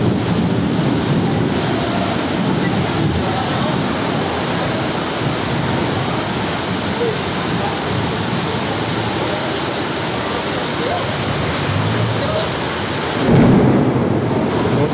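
A sudden heavy thunderstorm pours down in a steady, dense roar of rain, with deep thunder rumbling beneath it throughout and a brief louder swell near the end.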